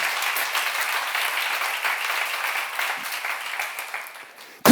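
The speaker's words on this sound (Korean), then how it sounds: "믿는 사람 박수 한번 쳐보세요." A crowd at a church seminar claps steadily for several seconds, a broad wash of applause that slowly fades toward the end.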